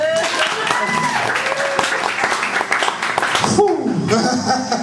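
Audience applause with cheers and laughter after an improv comedy show, a loud, dense burst of clapping that fades near the end as voices and chatter take over.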